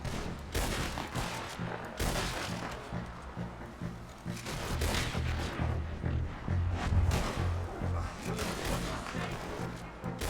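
Repeated gunshots in Red Dead Redemption 2, sharp reports scattered across the scene over a low rumbling game soundtrack.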